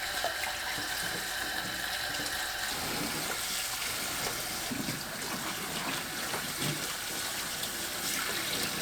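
Gomchi leaves being washed under running tap water in a sink: a steady, close rush of flowing water, with splashing and sloshing as the leaves are handled from about three seconds on.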